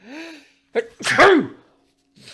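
A person sneezes loudly and close up, with a sharp intake followed by a strong burst, and brief voices before and after.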